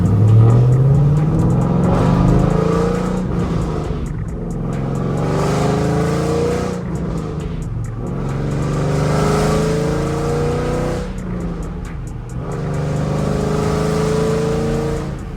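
A fifth-generation Chevrolet Camaro V8 engine revs repeatedly, rising and falling in pitch, with crackling exhaust pops between the revs, loud and close.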